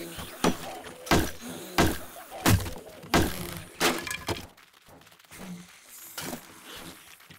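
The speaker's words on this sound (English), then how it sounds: "Is there anything else that we can use the wrench, can't we? That will open it up." A wrench repeatedly smashes a barrel open in the survival game 7 Days to Die, about eight sharp cracking, splintering impacts in an uneven rhythm, then quieter knocks near the end.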